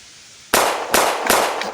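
Three loud, sharp gunshot-like bangs in quick succession, each followed by a brief crackling decay.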